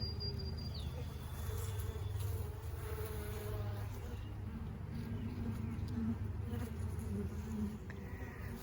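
Honey bees buzz around an open hive colony during a queen search, a steady low drone with faint passing insect whines layered over it at moderate distance, with no talking.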